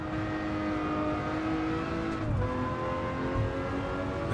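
Lamborghini Murcielago LP640 engine in Gran Turismo 7 during a Tokyo race, a steady sustained high-revving drone with a brief dip in pitch midway, close and continuous with no talk.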